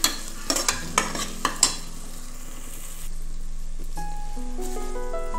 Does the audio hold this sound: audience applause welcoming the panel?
no